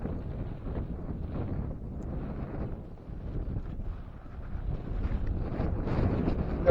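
Wind blowing outdoors by rocks, rumbling steadily into the microphone in low, gusty surges that swell toward the end. Faint voices can be heard in the background.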